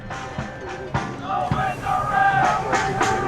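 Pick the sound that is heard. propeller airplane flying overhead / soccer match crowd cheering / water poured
soccer match crowd cheering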